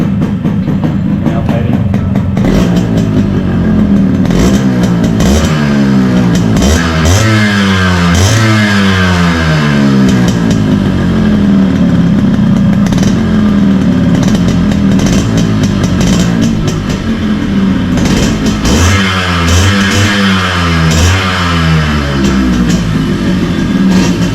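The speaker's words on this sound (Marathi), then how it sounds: "आता जरा ही गाडी स्टार्ट करणार आहे आज" A motorbike engine starts and runs, close and loud, with repeated revving that rises and falls in waves over a continuous idle rumble.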